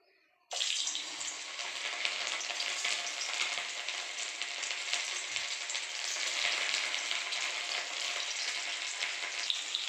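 Cauliflower pieces frying in hot oil give a loud, steady, dense sizzle that starts abruptly and holds without pause, close up and alone.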